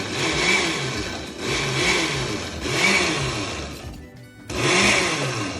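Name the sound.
blender pulsing pine nuts, oil and garlic for pesto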